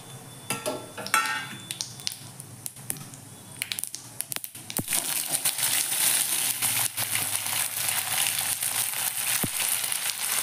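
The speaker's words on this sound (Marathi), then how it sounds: "जिरे तडतडले की आपण तीळ घालूया।" Cumin seeds and sesame seeds crackling and sizzling in hot oil in a kadhai, a steady dense spatter rising and staying loud, with a few sharp scrape clicks of a spoon.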